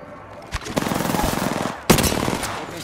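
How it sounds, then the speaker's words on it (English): Automatic gunfire in the Apex Legends battle royale game, sustained rapid bursts close and loud, with a sharp louder volley near the end and no talking over it. "Open fire. Shots fired."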